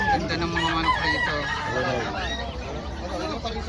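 Roosters crow and chickens cluck together in a busy, noisy crowd at a chicken market in Bocaue, Philippines, with some voices talking in the background.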